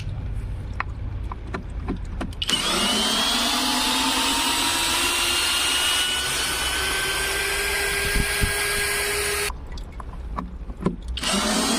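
An Einhell TP-CD 18/50 cordless drill-driver spinning to back out a screw: a loud, steady motor whine lasting several seconds with a slowly shifting pitch, bracketed by quieter handling noise before and after.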